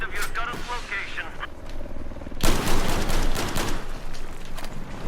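Rapid bursts of machine gun fire and battlefield gunshots in the video game Battlefield 5, loud and continuous, growing denser midway, with in-game voice callouts and player talk over the shooting.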